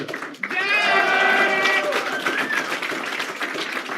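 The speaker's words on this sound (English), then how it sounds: "You got the biggest applause" Applause and cheering from a crowd at a class graduation, with a few excited voices rising over the clapping, sustained throughout.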